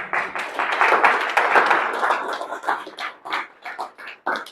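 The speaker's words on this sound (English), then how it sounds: "Thank you for the clap" Audience applause at a business workshop following a speaker's quote, a dense burst of clapping that fills the room for a few seconds and then thins into scattered, fading claps.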